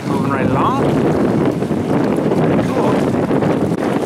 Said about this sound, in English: Bit of a fishing boat moving right along.